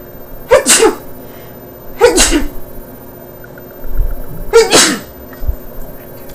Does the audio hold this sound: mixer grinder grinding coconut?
no